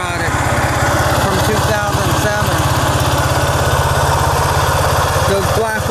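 A 2007 Honda Rancher ATV engine runs steadily at idle, a loud, even, rapid putter with a buzzy mechanical rattle on top, close and continuous.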